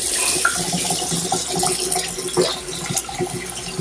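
Tap water runs steadily into a sink during washing up in a home kitchen where tomato chutney and chicken curry are being cooked, a continuous close splashing hiss with small clatters and no talk over it.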